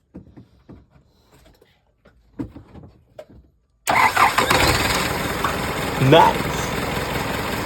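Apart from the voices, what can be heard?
car engine starting after transmission repair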